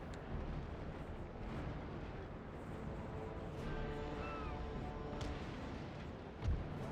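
Ship cannons firing grapeshot in a naval video game rumble faintly and continuously as a low distant roar of booms, with soft tonal game effects and a thump near the end.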